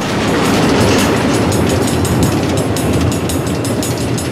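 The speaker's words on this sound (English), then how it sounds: "Automated train tracks running all through the Nether, connecting all the different order members?" Automated train rolling on tracks through the Nether in the video game Minecraft Story Mode, a loud, continuous rumble with steady rhythmic clickety-clack of wheels and no voices.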